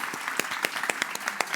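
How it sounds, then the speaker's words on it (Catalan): A crowd claps in appreciation after a business conversation on stage, a short burst of brisk applause with a few sharp individual claps standing out from the dense patter. "jo us demano ara un aplaudiment"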